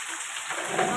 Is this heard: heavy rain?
yes